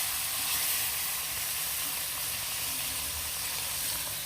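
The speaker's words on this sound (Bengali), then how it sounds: "রুই মাছগুলো লবণ দিয়ে আর হলুদের গুঁড়া দিয়ে মেখে নিলাম, আর গরম তেলে এগুলো ভেজে নিব" Rui fish coated in salt and turmeric frying in hot oil, a continuous dense hiss of sizzling that holds steady throughout.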